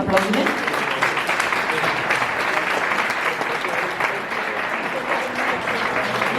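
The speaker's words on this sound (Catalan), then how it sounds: "Un fort aplaudiment." Dense, steady applause from a lecture audience fills a hall, a continuous wash of many hands clapping at even loudness throughout, with faint voices mixed in.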